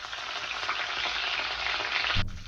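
Cumin, finely chopped green chilli and curry leaves sizzle loudly in hot oil in a pan, a dense, steady frying hiss that stays close, then cuts off briefly near the end.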